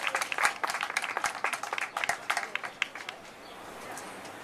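Audience applause at a Father's Day pledge kick-off event, a dense burst of clapping that tapers off over about three seconds and leaves faint room noise.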